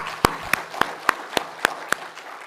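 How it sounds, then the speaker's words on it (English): Conference audience giving a round of applause at an occupational health and safety event, heard as sparse, evenly spaced single claps, about eight sharp hand strikes ringing out in a quiet room. "Let's give her a round of applause."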